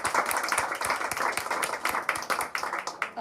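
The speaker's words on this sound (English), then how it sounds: "The applause was for you." Audience applause at a panel session of a COP28 conference event, a dense, steady wash of many hands clapping at fairly close range, with no talk over it.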